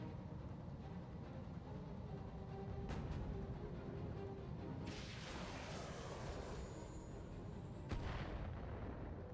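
Distant artillery fire in the BattleTech video game: low, rumbling booms and a couple of sharp reports rise over a dense, steady battle drone, with faint mechanical whines in the background.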